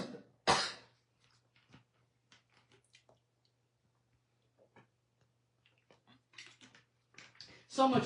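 A crafter working on a paper shadow-box fun-fold coughs once, a sharp loud burst near the start, followed by soft handling ticks and rustles, then more bursts of noise near the end.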